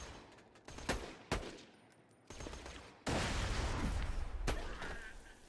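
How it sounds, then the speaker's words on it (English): A fast-firing Maliwan SMG in Borderlands 2 lets off rapid gunfire in several bursts, starting with short separated shots and building into a loud, sustained volley near the end. "Someone seems to have a fast-firing Maliwan SMG, so he needs to die."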